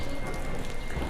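Steady rain falls around an old historic residence, a dense constant hiss of drops spread across the whole short moment with no talk over it.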